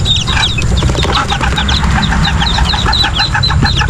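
Many chickens cluck busily in a Philippine backyard farm, a dense chorus of short, overlapping calls close by over steady, loud background noise.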